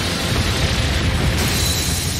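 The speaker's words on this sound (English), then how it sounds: "Grummer cannon, fire!" A Grummer cannon fires and explodes in the Trails of Cold Steel IV video game, a loud, dense, sustained blast roar with heavy rumble and no pause.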